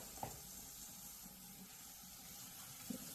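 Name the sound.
rinsing juicer parts under sink tap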